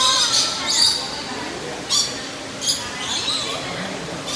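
A bird at a bird park gives a few loud, sharp squawks and screeches over a roomy background hum, with short calls spaced through the stretch.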